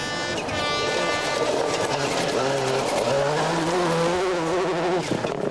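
A Ford Focus rally car racing on a stage of Wales Rally GB 2003, its engine rising and falling in pitch through gear changes as it passes, loud and continuous, with no talk.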